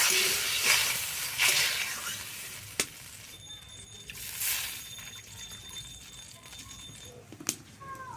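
Snail curry with water, spices and potato being stirred in a pot, a soft scraping and swishing with a few sharp clinks of the spoon against the vessel, fairly close and otherwise quiet.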